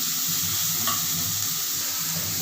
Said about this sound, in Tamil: கூடவே பச்சை மிளகாய், சீரகம், வெங்காயம் போட்டு நல்லா வதக்கலாம்